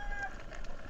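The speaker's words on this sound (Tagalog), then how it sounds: "Aba, may manok." A chicken clucks briefly close by on a riverside fishing outing, with outdoor background noise around it and no talking.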